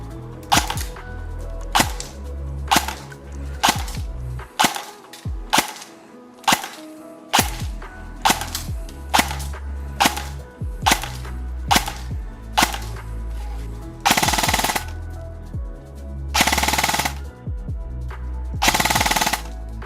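Rapid bursts of gunfire from a Well Pro PPK-20 (WE06-2) airsoft AEG: sharp cracking shots in quick succession, with short pauses between volleys and a couple of longer sustained bursts.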